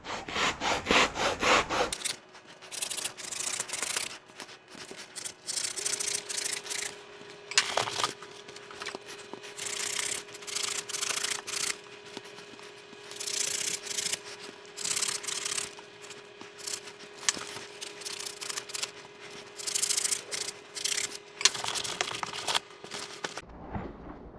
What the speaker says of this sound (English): Sometimes you gotta just trim off these edges a little bit so it doesn't cut flat on you.